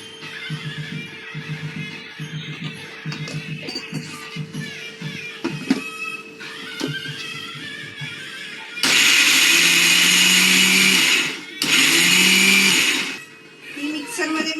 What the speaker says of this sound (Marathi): त्याला आता आपण मिक्सरमध्ये बारीक वाटून घेऊया